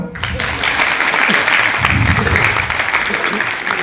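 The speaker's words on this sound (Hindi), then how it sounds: "तालियां तो मारो" An audience breaks into steady applause at a devotional gathering, the clapping dense and close, with some voices mixed in.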